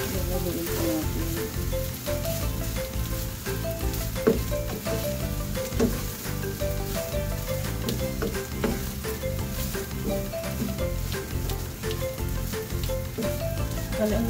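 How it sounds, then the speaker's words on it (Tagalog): Leftover cold rice sizzles and crackles steadily as it fries in a pan for fried rice, with occasional stirring scrapes, loud and continuous. "Ilagay na po natin yung ating kaning lamig."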